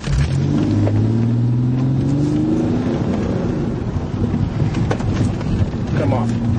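A car drives and pulls up to a blue truck, its engine a loud, steady rumble with wind buffeting the microphone. The engine pitch rises and then settles as it slows, and voices come through at times.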